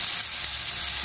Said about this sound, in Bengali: কেটে ডাঁটাগুলোকে আগে একটু লবণ আর হলুদ দিয়ে ভালো করে ভেজে নিচ্ছি।